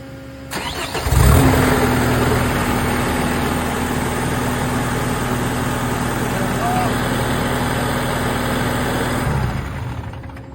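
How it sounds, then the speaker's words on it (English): A Deutz diesel engine on a side-loader cranks and catches about a second in, then settles into a steady, loud idle that runs evenly until it shuts off near the end. "There's a Deutsch diesel engine. If you want, just turn it on."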